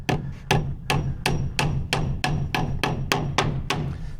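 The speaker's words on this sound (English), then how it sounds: "so I'm using a little bitty hammer" Steady, evenly spaced hammer blows, about ten sharp taps from a small 13-ounce Bluegrass hammer nailing wood lap siding, close and crisp with no talking.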